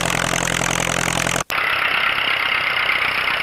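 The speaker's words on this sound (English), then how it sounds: "this is what the 8N sounds like. Straight pipe with no muffler." A Ford 8N tractor engine runs on a straight pipe with no muffler, a loud, close, steady raw exhaust rumble with a brief cut-out midway before it carries on at the same even idle, no voices.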